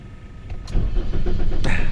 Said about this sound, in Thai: ทำการติดเครื่องยนต์ครับ